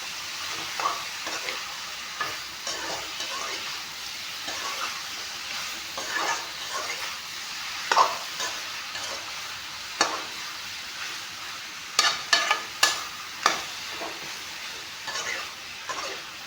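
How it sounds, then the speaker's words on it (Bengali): Mutton pieces fry with ginger, garlic and chili paste, salt and colour powder in a pan, a soft continuous sizzle broken by scraping stirs and sharper clatters of the spoon, close and fairly quiet. "এয়া ৰং গুড়া নিমখ আদা নহৰু জলকীয়াৰ পেষ্টখিনি মাংসখিনিৰ লগত অলপমান ভাজি ল'ম"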